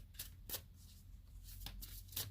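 Tarot cards are shuffled in several quick, faint riffling bursts close by, separated by short pauses of near quiet.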